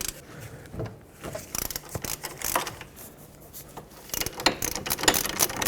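Ratchet breaking loose 17mm caliper bracket bolts on a 2003-2008 Toyota Corolla, with scattered metallic clicks and clunks, a busier run of ratcheting near the end, and faint background noise.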